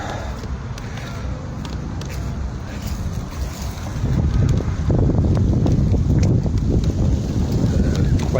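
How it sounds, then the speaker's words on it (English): Wind rushes steadily across the microphone with a low rumble that grows stronger partway through, like a gusty outdoor day near open water. "Quite a windy day."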